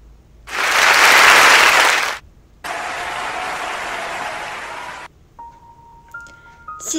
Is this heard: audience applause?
yes